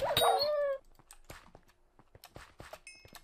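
In Minecraft Hypixel SkyBlock, a game dog lets out a loud drawn whine, then several short barks and yips follow, scattered among clicks and other game sounds.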